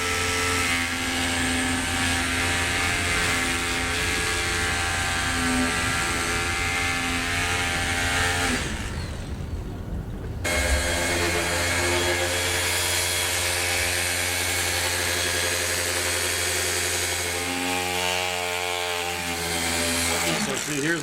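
A dual action polisher with a foam pad and polish working the paint of a classic Plymouth 'Cuda, a loud sustained droning whir with steady pitch that briefly drops out and restarts, close up.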